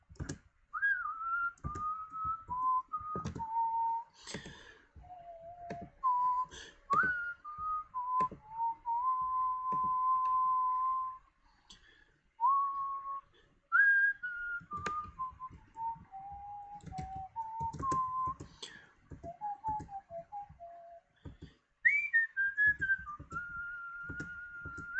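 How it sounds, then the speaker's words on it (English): A person whistles a wandering melody in long, steady notes and short runs for about twenty-five seconds, fairly quiet and close, with faint clicks and ticks like typing scattered underneath. "I now will just want to whistle and just hum along to it."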